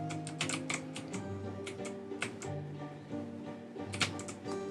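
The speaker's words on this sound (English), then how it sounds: "you're gonna just hear nothing but my mouse clicks" Computer mouse clicks during PC gameplay, a close, quick run of sharp little clicks in irregular bursts and pauses, with no talking.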